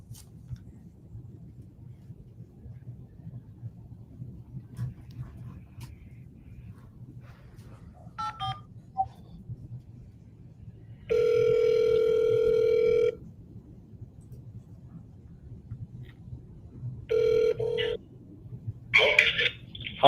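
Telephone sounds on a call: scattered faint clicks and short tones, then a steady two-second ringback or dial tone, followed by brief keypad beeps and another short tone, with quiet background noise between.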